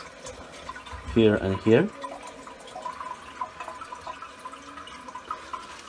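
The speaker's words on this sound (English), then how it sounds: "Now it has to fill up the tank." Water rushing into a toilet tank as it refills after the supply valve is reopened, a steady trickling fill under a brief spoken phrase near the start.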